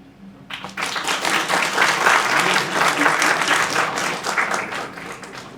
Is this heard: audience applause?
yes